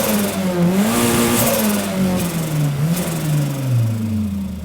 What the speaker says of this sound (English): Starting up my powerful 3S GTE turbocharged 2-litre double overhead cam, aftermarket ECU, big injectors, all the good stuff with a big dose pipe on it